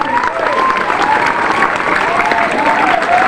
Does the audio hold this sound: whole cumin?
no